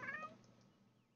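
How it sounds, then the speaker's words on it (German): Cats meowing in The Sims 4 life-simulation game, a short bright meow at the start that fades quickly into quiet game background. "Dann haben wir ja unsere süßen beiden Kätzchen hier noch."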